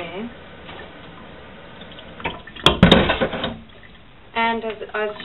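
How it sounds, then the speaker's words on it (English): Tap water runs and splashes over water kefir grains being rinsed, building to a loud, close gush in the middle before easing off, with another burst near the end. "I rinse this a bit just to get it all"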